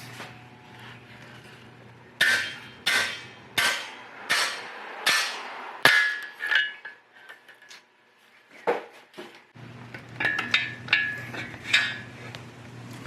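Sharp metallic hammer blows drive a worn cam bearing out of an engine block, about seven loud strikes in a steady rhythm, then a pause, then faster lighter taps with ringing metal.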